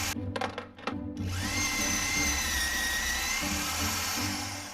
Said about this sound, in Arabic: مثقاب لاسلكي.